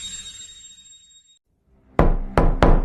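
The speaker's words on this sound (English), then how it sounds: "A knock at the door." Three sharp, loud knocks on a wooden door, spaced unevenly after a quiet pause, with a faint tonal hum fading out beforehand.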